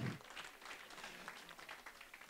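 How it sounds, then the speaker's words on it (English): Audience applause at a lakeside friends group's annual meeting, a soft, distant patter of many hands clapping steadily throughout, faint and even with no individual claps standing out. "So that deserves another round of applause."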